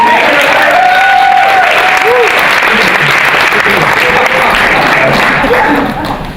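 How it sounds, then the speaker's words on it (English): Loud audience applause filling the room, steady and dense, with a bit of laughter and voices mixed in before it fades at the end. "Give her a round of applause, because that was right."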